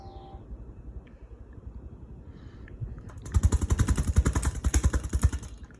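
A Hunter Highbury ceiling fan turning at moderate speed: a low, soft hum at first, then a close, loud run of rhythmic, rumbling buffets as moving air hits nearby.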